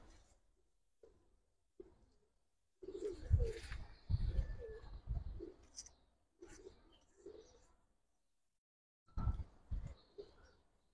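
Giribaz pigeons used in flying competitions coo in several soft, low bursts separated by pauses, with a few brief faint knocks early on and no voices.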